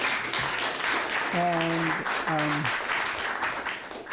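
Conference audience applauds speakers, a steady wash of clapping throughout while a voice speaks briefly over it.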